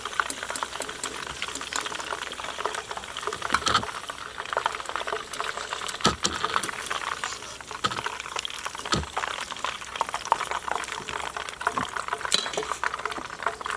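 Chicken sizzling in a karahi with hot oil, cooked restaurant style: a steady, close crackle of frying with scattered pops and stirring clicks, and no talking.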